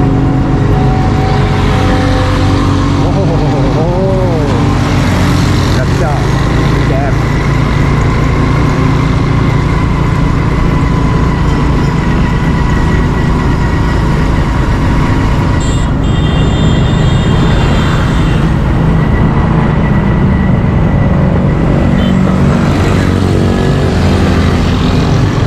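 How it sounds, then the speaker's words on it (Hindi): Steady road traffic passing over a new bridge at Gulistan-e-Johar in Karachi, heard from a slowly moving vehicle: continuous engine rumble and tire noise from cars and motorcycles, fairly loud and close, with no talking. "देखते हैं कि कौन कौन सी ट्रैफिक गुजरती है यहाँ से।"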